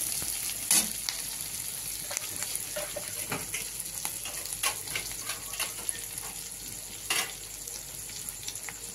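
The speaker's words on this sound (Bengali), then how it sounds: "এবার আমি দিয়ে দিচ্ছি পেঁয়াজ কুচি আর লঙ্কা কুচি।" Chopped onion and green chilli fry in hot oil, a continuous close sizzle broken by repeated scraping strokes of a spatula against the pan.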